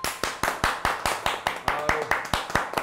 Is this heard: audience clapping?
yes